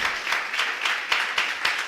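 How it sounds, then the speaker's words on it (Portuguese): A church congregation claps together in praise, a dense, steady wash of many hands with a faintly rhythmic pulse, filling the hall without pause. "Glória a Deus, você pode aplaudir o Senhor?"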